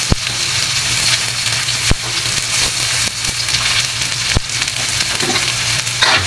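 Garlic, onion and chili sauté loudly in a pan for adobong baboy with isaw, a dense continuous sizzle broken by occasional sharp clacks of a stirring utensil.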